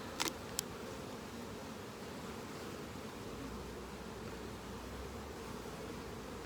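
Honeybees hum softly and steadily around a hive whose colony is building queen cells, a faint, even drone with a couple of brief knocks near the start.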